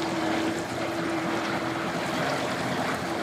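Steady drone of a motorboat engine idling nearby at a boat ramp on the Wekiva River, with a constant low hum and wind noise over it.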